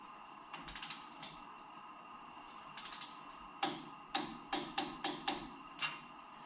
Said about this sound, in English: get the torque wrench out and set her up